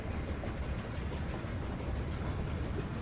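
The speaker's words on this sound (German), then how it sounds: "Es ist genau dieser Zug, der mir Angst macht." A train rolls along rails in the video game Haunted, a steady low rumbling drone with faint clattering that runs evenly throughout, with no voices.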